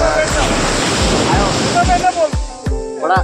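Ocean waves break and wash along a seashore in a loud, steady roar mixed with wind buffeting, as faint voices and sharper splashes surface near the end.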